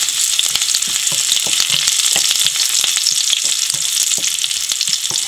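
Shallots and curry leaves sizzling in hot oil, a loud, dense, continuous crackle of popping and spitting close up, with no voices.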